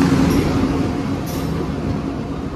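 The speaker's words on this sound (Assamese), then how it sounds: "ট্রেন খুচুং মুচুংকে আহি আছে স্পীডটো কমে দিছে" A train rolls slowly into a station, a steady low rumble of wheels and carriages with faint brake hiss, fairly loud and continuous without talk; the train front is decorated with two flags.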